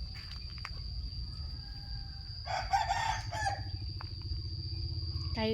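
A rooster crows once in a home garden, a loud drawn-out call rising over a steady bed of insect chirring and low outdoor rumble.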